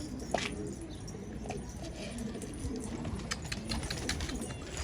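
Pigeons, tumbler birds, coo and flutter faintly at a distance outdoors, with low rustling and scattered clinks over a quiet background.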